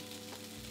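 Salmon and onions frying together in a pan, a continuous close sizzle with no voices.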